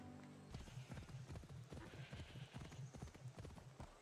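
Horse hooves galloping in the Greek countryside of Assassin's Creed Odyssey, a steady rapid clip-clop rhythm running throughout, close and prominent over a game soundtrack.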